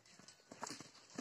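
Young horse, a yearling colt, at a livestock market, its hooves clip-clopping in a few irregular knocks at close range over a busy background hum.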